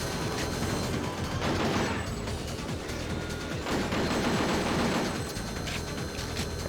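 Assault rifle fire in Coded Arms crackles in rapid mechanical bursts, dense and continuous with ratcheting, metallic texture, fairly quiet overall.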